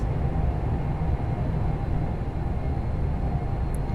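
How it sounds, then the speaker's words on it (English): A Bakerloo line train on the London Underground, simulated in the video game Train Sim World 5, gives off a steady low rumble and drone as it passes, with no one talking. "Oh, Bakerloo line train."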